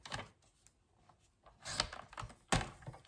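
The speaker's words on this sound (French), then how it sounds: "Maintenant, il faut que j'arrive à couper droit." Scissors or a blade cut a stamped paper card, a series of close, crisp snips and rustles with a sharp louder cut near the end, no talking.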